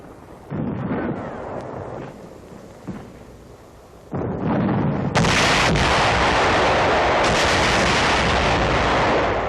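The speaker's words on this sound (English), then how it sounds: "Another section being cleaned out by satchel charges." Satchel charge explosions in 1945 combat footage: heavy, loud blasts rumble out one after another, ending in a sustained thunderous roar.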